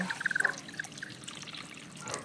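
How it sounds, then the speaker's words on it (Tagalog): Broth pours briefly into a pan of sautéed pechay with galunggong fish, a short trickling, splashing burst that fades into quiet bubbling. "Pwede na natin siyang lagyan ng sabaw"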